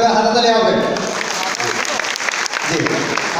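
Applause from an audience at a university annual picnic, dense clapping that starts after a voice and continues loudly for a few seconds.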